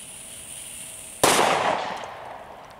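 A single Explosive 3 firecracker from Pyroko detonates outdoors with one loud, sharp bang whose crackling echo decays over the next second or so, following a steady low background hiss.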